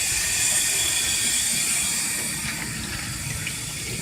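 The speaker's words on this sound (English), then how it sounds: "Now I'm finna put some more water back in here." Water pours steadily into a portable compact washing machine, a constant rushing, splashing flow close by with no talking.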